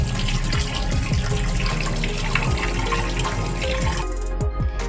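Cold tap water gushes loudly over cooked Maggi noodles being washed in a vessel, a close, continuous splashing stream that cuts off near the end.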